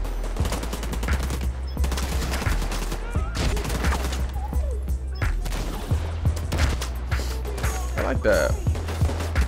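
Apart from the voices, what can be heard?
gunfire from The Division 2 video game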